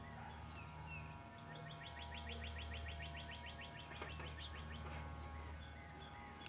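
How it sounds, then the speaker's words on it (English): Wren and other birds singing outdoors, with repeated rapid chirping trills mid-distance over a steady low hum and background ambience. "There is a wren there. The birds are coming."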